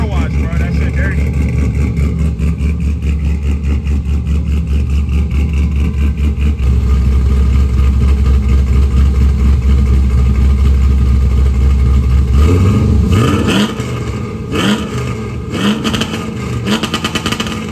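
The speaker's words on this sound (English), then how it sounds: "we got the exhaust done, Joe. We bustin'. I ain't gonna lie. I'm happy as hell. That shit sound completely different" A car with a newly done exhaust idles with a deep, loud, steady rumble close by, then revs in a few rising bursts near the end, with someone talking over it.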